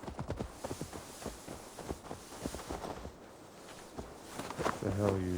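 Horse hooves clip-clopping in Assassin's Creed Valhalla, a steady run of close, fairly loud hoofbeats under game sound, with a low horn-like tone rising near the end.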